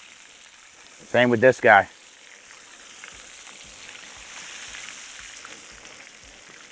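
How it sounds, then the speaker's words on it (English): Soft-shell crab frying in grease in a pan gives a steady, quiet sizzle and crackle, broken early by a brief spoken phrase before the bubbling continues alone. "this is only going to take a couple more minutes of frying in this grease"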